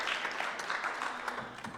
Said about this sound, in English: Let's have a round of applause for the sun.